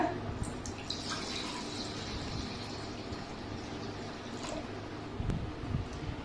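Water pours steadily into a container, a continuous splashing gurgle at moderate volume, with a couple of soft knocks near the end.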